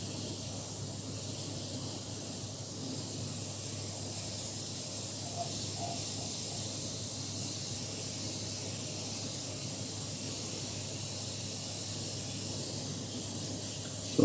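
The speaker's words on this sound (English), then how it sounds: "So I'll spray this on, we'll let this dry a little bit" Spray paint hisses from a can onto a miniature figure in one long continuous blast, a loud, close, steady rush of noise with no pauses or voices.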